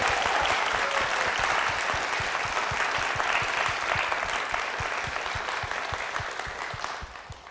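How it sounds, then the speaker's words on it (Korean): A church congregation at Ahyeon Holiness Church gives a loud, sustained round of applause for its pastor, dense steady clapping filling the hall for several seconds before tapering slightly at the end. "우리 목사님과 교회를 위해서 힘찬 박수 부탁드립니다"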